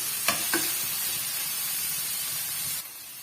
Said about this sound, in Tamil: தக்காளி பழம் நல்லா வந்து மசிகிற வரைக்கும் நம்ம வதக்கி விட்டுக்கலாம்